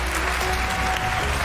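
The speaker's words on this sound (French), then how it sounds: "on peut s'applaudir bien fort" Crowd at the final of the Coupe de France de Robotique 2020 robotics competition claps after the match, a dense, sustained wash of applause from a large audience, steady and loud throughout.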